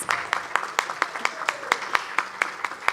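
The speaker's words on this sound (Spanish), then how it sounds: "démosle un cordial aplauso y un fuerte aplauso a todos nuestros expositores" An audience at a seminar claps, with a few distinct sharp hand claps standing out in an uneven rhythm over a light, sparse background of applause.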